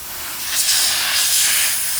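A sprayer sends bursts of cleaner onto a vintage Galaxy desk fan, a loud, close, airy hiss that swells and holds for about two seconds.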